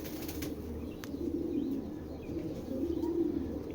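Giribaz pigeons coo in low, soft bursts at close range, with faint wing flaps and light rustling against quiet background noise.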